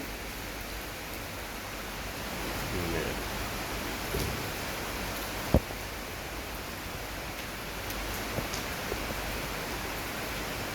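Steady rain falls throughout the day in Bangkapi, Bangkok, a continuous broadband hiss with a few soft taps and drips standing out, constant and fairly close with no voices.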